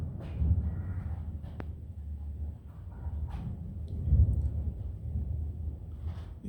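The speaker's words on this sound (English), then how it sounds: "you can hear the thunder." Thunder rolls through heavy monsoon-season rain in Bogota, Colombia, heard from a bedroom window: a steady low rumble with a couple of stronger swells, fairly faint and distant.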